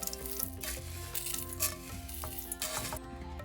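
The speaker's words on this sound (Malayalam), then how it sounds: "മുളക് ചേർത്തതിന് ശേഷം ഞാൻ ചെറുതായിട്ട് ചൂടാക്കിയതേ ഉള്ളൂ" Kashmiri chilli powder and masala spices sizzle gently in a hot pan as they are stirred for beef vindaloo, a soft crackling hiss with light scraping of the spoon and no voices.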